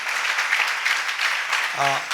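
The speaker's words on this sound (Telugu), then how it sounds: "గట్టిగా చప్పట్లు కొడదాం యేసయ్యకి ఒకసారి మహిమకరంగా" A church congregation at a watch night service claps loudly and steadily for two seconds, a dense even wash of applause, with a voice starting to speak at the end.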